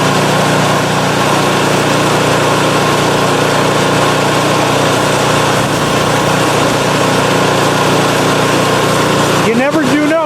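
A PowerSmart 24-inch snowblower engine runs loud and steady close by, a constant droning roar throughout, with a short warbling sputter near the end.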